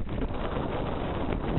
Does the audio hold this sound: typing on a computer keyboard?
no